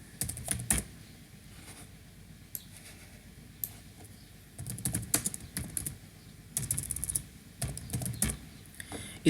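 Computer keyboard keys clattering in short irregular bursts and single taps while a Java program is being written and compiled, close and fairly quiet with pauses between runs of typing.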